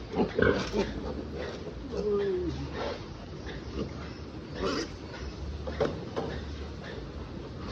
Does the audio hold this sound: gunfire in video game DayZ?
no